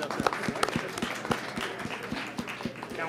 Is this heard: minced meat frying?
no